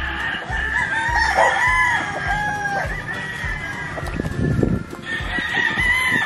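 Hybrid gamecocks on a farm crow repeatedly in long overlapping calls, with nearby clucking and several roosters answering one another at close to moderate distance.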